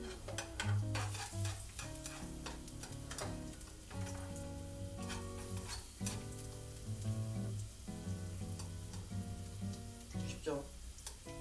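Garlic sizzles and crackles steadily as it fries in a pan for aglio e olio, a constant hiss beneath background music.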